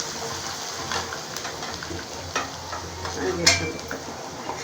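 Garlic and spices frying in a pan for a gojju avalakki breakfast, a low steady sizzle with occasional stirring scrapes and a sharp metallic clink near the end.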